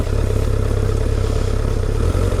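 A Honda CBR1000RR sport bike engine runs steadily nearby at a low idle, producing a constant rough, clattering rumble with no talk over it.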